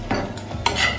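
A spoon stirs gajar halwa, sweet carrot pudding, in a pot, giving a brief close scraping swish with faint sizzling under it and no talking.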